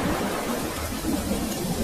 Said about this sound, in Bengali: হঠাৎ দমকা হাওয়া থেকে প্রবল ঝড় বৃষ্টি শুরু হলো।